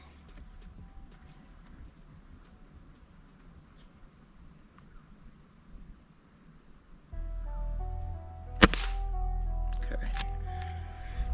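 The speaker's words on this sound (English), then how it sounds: "That one went high because this rifle, I believe, is zeroed for 30 yards." A single sharp crack from a small game hunting rifle firing a pellet, close and brief, over a steady low engine-like rumble outdoors.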